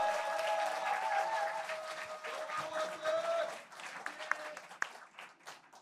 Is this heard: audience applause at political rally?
yes